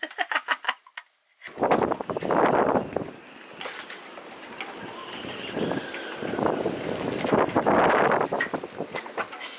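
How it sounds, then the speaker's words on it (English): Loud wind buffets the microphone in rough, surging gusts during a storm at a marina, with water and sailboat noise beneath and a brief lull near the start. "Super crazy gust all of a sudden."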